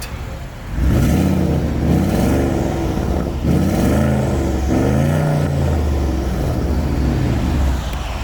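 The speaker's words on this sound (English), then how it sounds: "we're gonna rev up the Porsche to see what this one sounds like" A Porsche engine revving near at hand in repeated bursts, each rising and falling in pitch over a deep exhaust rumble, loud and continuous with no talking.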